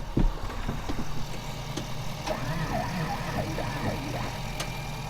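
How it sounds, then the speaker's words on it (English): A John Deere 7R tractor engine is cold-started in cold weather, a steady, close diesel idle with a rough, knocking undertone and some wavering tones running throughout, with no talking. "These 7Rs, every one of them I've ever been around does not like to start in the cold."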